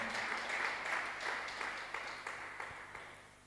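A church congregation applauding and cheering at a Bible study, steady mixed clapping with a rhythmic pulse, moderately near, gradually fading over a few seconds.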